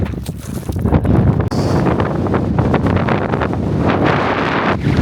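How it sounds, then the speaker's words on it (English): Strong wind on an Iceland hike buffets the microphone in loud, continuous rumbling gusts, blowing dust and roaring throughout with no pause. "This is what I meant by really strong wind."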